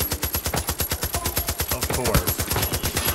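Rapid automatic gunfire from enemies in the Far Cry 5 video game rattles in a loud, evenly spaced burst across the whole stretch, while a player briefly speaks over it.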